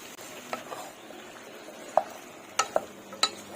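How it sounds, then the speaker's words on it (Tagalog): Lomi noodle soup being stirred in a pot after soy sauce and oyster sauce go in, with a low simmering background and a few sharp utensil clinks against the pot. "Haluin lang guys ng bonggang-bongga."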